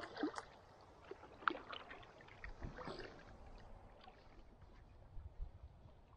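Quiet canoe paddling on a snowy lake, with soft splashes, drips and knocks of the paddle against the hull over faint water and wind, close and gentle.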